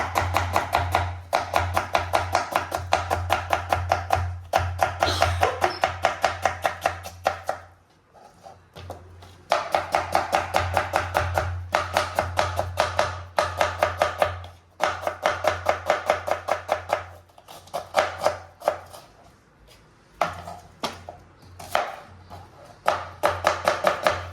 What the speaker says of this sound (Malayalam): അപ്പൊ അച്ഛൻ നമ്മളുടെ സവാള കട്ട് ചെയ്യാൻ പോണാണ്